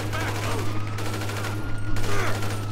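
Rapid gunfire bursts in GTA Online erupt over a steady low game hum, with some overlapping voices and chat noise in the mix.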